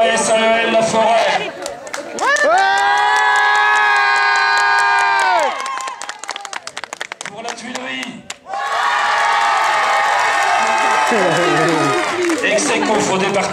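At a children's club prize-giving, a crowd of kids lets out a long, loud unified shout, breaks into a burst of clapping, then erupts into another sustained cheer.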